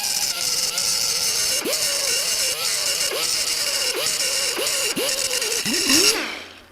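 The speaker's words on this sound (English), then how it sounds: "I'm just taking the weld off. I'm not trying to grind into the rod." Angle grinder taking a weld off a rod on a DIY one-off motorcycle tank build, a loud continuous high whine with repeated dips in pitch as the disc bites, stopping at the end.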